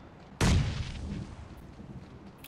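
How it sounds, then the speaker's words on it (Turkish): Grenade explosion in the PUBG Mobile video game, one sudden loud boom with a rumbling tail that fades over about a second and a half, followed by faint distant noises. "O zaman onlara hayatımın en güzel bombasını atıyorum izle"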